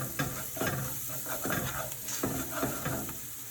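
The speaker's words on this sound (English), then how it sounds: "I'm going to add this to my pot and continue sauteing this" Onions and garlic sauteing with pepper and dried oregano in a soup pot for split pea soup: a quiet, steady sizzle with a handful of stirring scrapes at an even pace.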